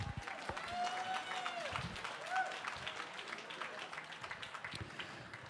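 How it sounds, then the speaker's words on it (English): An audience at the PCNW benefit applauds artist Megan Riepenhoff, moderate clapping heard at some distance in a reverberant hall, with tonal ringing sounds and some murmuring mixed in. "Let's give Megan Riepenhoff a huge round of applause."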